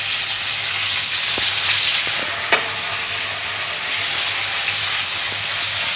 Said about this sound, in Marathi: आपण हे टमाटर आणि कढीपत्ता याच्यामध्ये घालणार आहोत. त्याला छानसं भाजून घेऊया